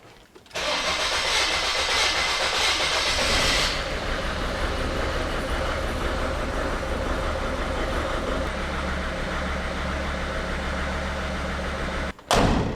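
A Sprinter van diesel engine after injector replacement cranks briefly, catches and then settles into a loud, steady, rough idle that runs on for several seconds before cutting out, heard close by.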